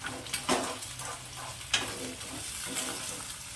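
Onion and green chilli frying in hot oil in a pan for Maggi, a steady close sizzle with a few sharper crackles and stirring scrapes, no voices.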